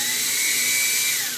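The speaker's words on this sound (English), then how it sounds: "Just working the drill bit." Steady high-pitched whine of a small power drill boring a hole through the hand of a 1/6-scale Hot Toys figure, close and loud, holding one tone before dipping slightly at the end.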